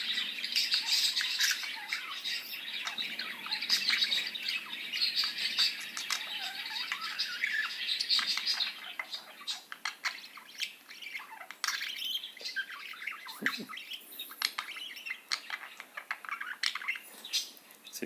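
Budgies chirp and warble continuously, a busy stream of bright tweets and squawks close by, with no talking.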